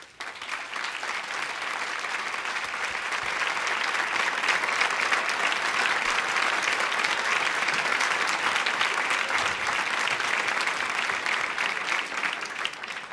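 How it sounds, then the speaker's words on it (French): Sustained, dense audience applause welcoming a performer at an evening event, loud and steady throughout with no talk over it. "Je vous demande, et je ne le nommerai pas, de l'applaudir."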